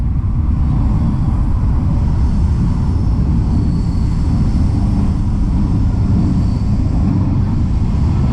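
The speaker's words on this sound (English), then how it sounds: "there's a lot of plane traffic that comes through here" The loud, continuous roar of an airplane overhead, a heavy steady rumble filling the whole stretch.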